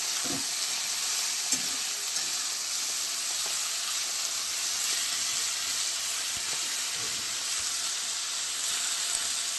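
Kharkol leaves fry and are stirred in a pan with salt, giving a steady, close sizzling hiss throughout and a few soft scraping touches of the spoon.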